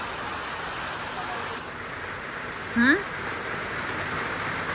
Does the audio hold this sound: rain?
yes